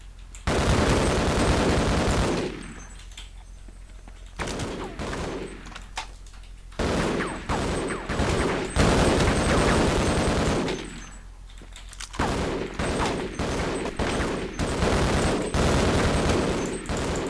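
Bursts of automatic gunfire from Half-Life gameplay, loud and dense, arriving in several long volleys separated by brief quieter gaps.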